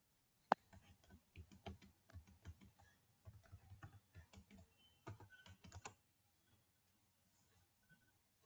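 Computer keyboard typing as a GSTN number is entered in accounting software: a quick run of close, quiet key clicks in short bursts for about six seconds, then near silence.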